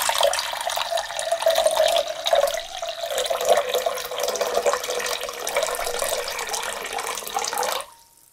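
Distilled water for a soap-making lye solution runs in a steady, close pour for about eight seconds, a bright continuous splashing that stops abruptly at the end with no talk.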